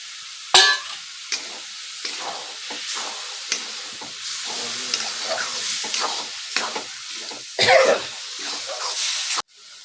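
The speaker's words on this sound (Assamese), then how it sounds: "এইটো বিলাহী ভাজি দিলোঁ।" Chopped tomato frying in a pan with chilli, garlic, ginger and onion for a dry fish chutney, a close sizzle broken by spatula stirs, with a cough and throat clearing near the start.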